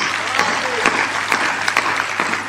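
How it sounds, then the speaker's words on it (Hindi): Audience applause at a Hindi comedic poetry gathering (hasya kavi sammelan), a dense, steady wash of clapping from a crowd with a few sharper bursts, lasting the whole moment. "अगर सुनना चाहते हैं तो एक बार तालियां उठा दीजिए।"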